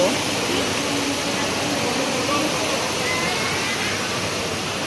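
Artificial waterfall inside The Mall Bangkae shopping centre pours a steady, loud rushing wash of water throughout, with shoppers' voices faintly mixed into the spray.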